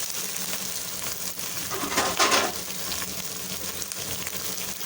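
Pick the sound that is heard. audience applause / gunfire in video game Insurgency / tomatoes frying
tomatoes frying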